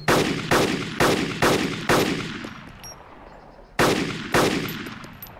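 Gunfire in the DayZ Mod video game during a forest chase: a rapid run of four loud, sharp shots, a pause, then two more spaced reports, each with a decaying echo.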